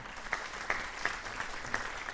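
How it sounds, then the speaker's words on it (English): Audience at a Mother Teresa awards ceremony clapping, a moderate even patter with several sharper individual claps standing out. "Please give a clap for that."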